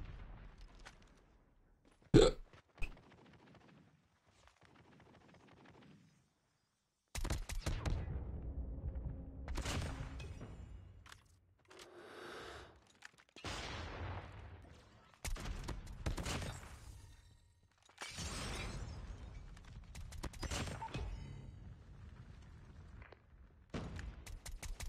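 Gunfire in COD Mobile, with bursts of shots and explosive hits mixed into busy in-game action and footsteps, loud and close in the middle section after a quieter opening with a sharp single crack.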